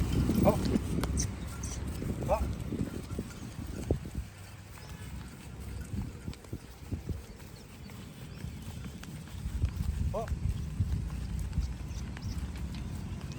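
A mare walking with steady clip-clopping hooves on ground, moderately close, while people talk and call out over the steps.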